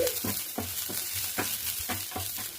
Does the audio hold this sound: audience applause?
no